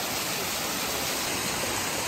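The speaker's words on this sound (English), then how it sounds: "Ooh, right into the waterfall." A waterfall roars up close, a dense and unbroken rush of falling water that stays steady throughout.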